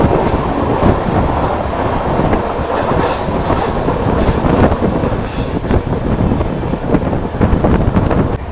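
An express train rounds a curve with the locomotive close ahead, giving a loud steady rumble of rail noise, faint wheel squeal and buffeting wind against the microphone, with no talking.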